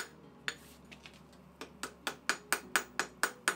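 A hammer forging steel for a knife: sharp metallic strikes, sparse at first then settling into a steady rapid rhythm of about ten ringing blows, close but fairly quiet with no talk.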